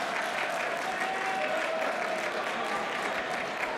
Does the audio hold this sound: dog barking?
no